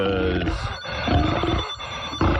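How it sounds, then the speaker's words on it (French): A telephone rings over rough, noisy background sound in an African village setting, its tone repeating through the short stretch. "il y a le téléphone qui sonne, là"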